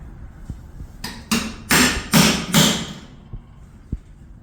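A hammer drives a round chisel into the snout of a carved dragon head, four or five close, loud, dull knocks in a quick row, framed by lighter taps.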